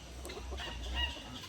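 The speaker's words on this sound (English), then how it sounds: "This is the nicest rooster." A friendly rooster gives a brief, soft low cluck up close, a short murmuring sound that stands alone without talk.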